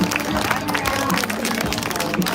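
Spectators at an Olympic-style boxing event in Noventa di Piave clap steadily for young boxers, a dense continuous applause in a reverberant hall.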